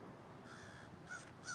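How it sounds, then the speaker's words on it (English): Faint, distant crow caws, three short harsh calls spaced over a second and a half, with no other sounds nearby. "You hear the old crows got upset when they seen them take off."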